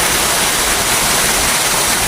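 A steady, loud rush of water pours over a waterfall where children are bathing, a dense and unbroken roar filling the clip with no voices standing out.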